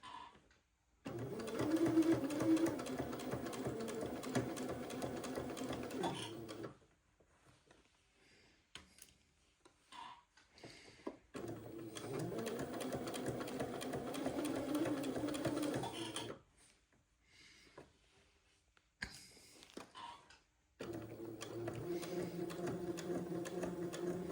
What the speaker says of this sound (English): I will keep sewing, just staying very close to the fold of the placket